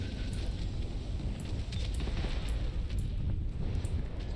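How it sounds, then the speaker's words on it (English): Dense, continuous rumbling blasts and booms from the video game Totally Accurate Battle Simulator blend into a loud roar, with scattered sharper pops on top. "All I'm seeing is explosions."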